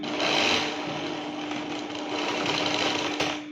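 A sewing machine runs continuously, stitching crepe fabric for an open abaya with a dense, even, close-up whirring hum and no pauses.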